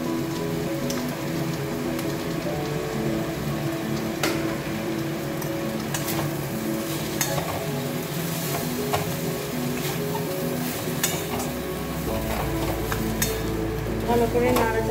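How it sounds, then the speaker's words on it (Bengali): Rohu fish and boiled potato mixture stirred in a hot frying pan: steady sizzling crackle with repeated scraping strokes of a spatula, continuous and close, with faint speech in places. "ভালো করে নাড়াচাড়া করে একটা শুকনো করে তৈরি করে নেব"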